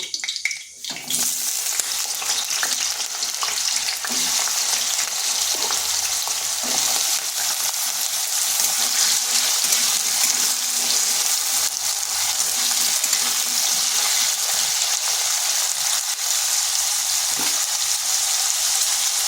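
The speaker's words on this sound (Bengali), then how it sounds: "দিয়ে দিচ্ছি সরষের তেল, একটা শুকনো লঙ্কা, দিয়ে দিচ্ছি আলু" Potatoes and a dried red chili frying in mustard oil, a loud, continuous close-up sizzle with occasional stirring scrapes, steady throughout with no talking.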